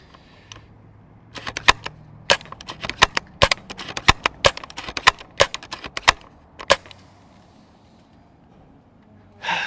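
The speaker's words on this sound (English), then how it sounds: "I am wondering though, if I can attempt an RPS test and see how quickly I can do some follow-up shots" A CYMA VSR-10 airsoft sniper rifle fires rapid follow-up shots, sharp close snaps and clacks of bolt cycling repeating quickly in an irregular burst of about twenty clicks, then stopping.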